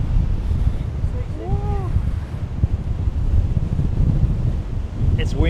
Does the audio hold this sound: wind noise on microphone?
yes